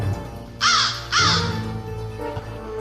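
Two loud, harsh crow caws ring out close together, followed by a quieter scene with low background noise and a faint third call.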